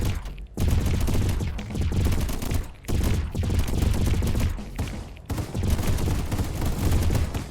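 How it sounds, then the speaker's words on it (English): Rocket turrets in Deep Among the Swarm unleash a dense, continuous barrage of blasts, loud and close, broken by two brief gaps before the rapid volleys resume. "that's what it looks like when the rocket turrets fire"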